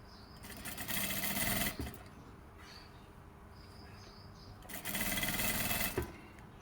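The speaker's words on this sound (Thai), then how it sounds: "เย็บให้ตลอดแนวนะคะ เย็บให้ตลอดแนว เย็บให้ถึงชายนะคะ" Two bursts of a sewing machine running a seam along fabric, each a loud, steady mechanical whirr of about a second or so, separated by a quieter stretch of low background noise.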